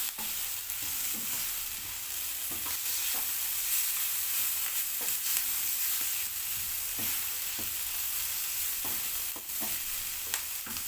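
Onions sautéing briefly in a pan for white rice, a steady close sizzle with intermittent stirring scrapes and spoon knocks throughout, no voices.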